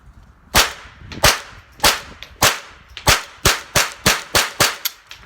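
A Ruger 10/22 M1 Carbine rifle fires standard velocity rounds outdoors at a range, a string of about eleven sharp, fairly light cracks that start spaced and quicken toward the end.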